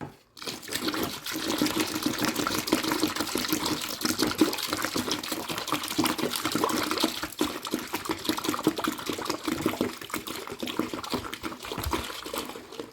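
Two liters of liquid are poured into a homemade dish soap mixture of powder and soap, giving a continuous gushing, splashing flow close by.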